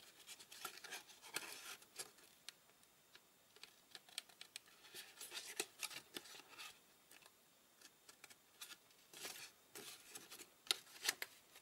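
Soft, irregular snips and paper rustles of scissors cutting paper close by, quiet, with short pauses between cuts.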